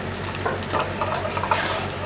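Cèpes and blanched, peeled chestnuts for a Cévennes-style ragout sizzle and fry steadily in butter in a pan, with faint stirring scrapes over a continuous close crackle.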